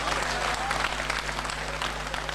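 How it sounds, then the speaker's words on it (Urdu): Audience at a mushaira applauding, a dense, even wash of clapping from a large crowd that holds steady for a couple of seconds, close and loud with a faint steady hum beneath. "زور سے تالیاں بجا دیجئے"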